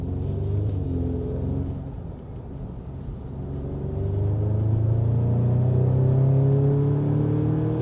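A 2017 Audi S3 Sportback Quattro Black Edition holds third gear around 4,500 RPM, its engine a steady droning rumble that dips briefly and then climbs louder in pitch, heard from inside the cabin.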